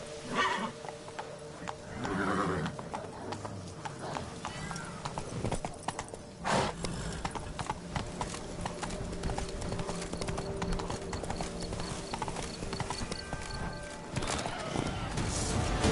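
Horse galloping in The Witcher 3: Blood and Wine, with loud, rapid, steady clip-clop hoofbeats running throughout, a whinny near the start and other game sounds mixed in.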